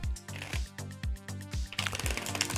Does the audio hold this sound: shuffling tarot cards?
yes